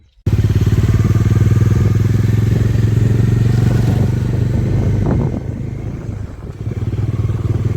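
A motorcycle on a ride in Purulia roars loud and close with a steady engine drone, easing slightly after about five seconds amid some rattling and wind.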